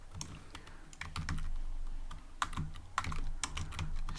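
Python code is typed on a computer keyboard in quick, uneven bursts of sharp clicking keystrokes, close and clear, with a few louder key taps and no talking.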